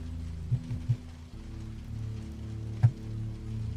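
Steady rain falls outside in a city at night, a constant low wash broken by a few soft thuds and one sharper knock.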